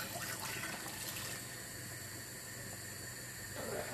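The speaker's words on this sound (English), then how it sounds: "Now I'm gonna go ahead and I'm gonna add my coconut milk" Coconut milk poured into a pot of Jamaican vegan red peas soup, a steady close watery pouring rush that carries on throughout without talk.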